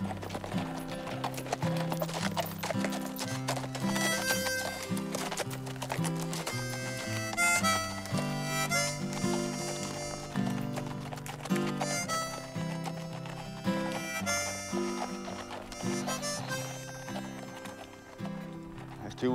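A horse walks along a path in Spain, its hooves clip-clopping in a steady rhythm throughout, with occasional whinnies and talk over a busy background.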